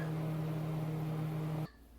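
A microwave oven hums steadily while heating a mini cake, a loud constant drone that cuts off abruptly near the end, leaving quiet room tone.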